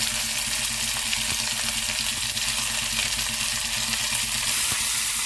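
Chopped onion, curry leaves and green chilies sizzling in hot oil, a steady bright crackle and hiss with faint stirring clicks, close and continuous with no voices.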